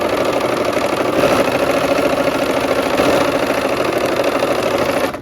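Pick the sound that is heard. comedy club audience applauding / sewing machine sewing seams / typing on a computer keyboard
sewing machine sewing seams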